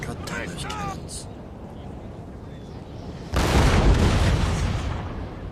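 Cannon fire in the Napoleon Total War battle game, a heavy rumbling barrage that swells suddenly after quieter battlefield noise, while someone talks over the first part.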